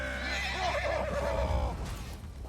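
Horses neigh in the Elder Scrolls Online video game, a drawn-out whinny rising and falling over a steady background hum, with faint hoof clip-clops mixed in.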